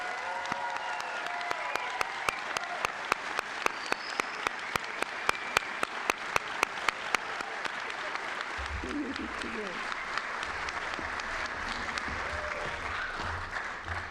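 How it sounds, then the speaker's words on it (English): Sustained applause from a crowd at a school graduation ceremony, with distinct rhythmic claps standing out near the front, continuing steadily throughout. "please give a warm round of applause to the 10th graduating class"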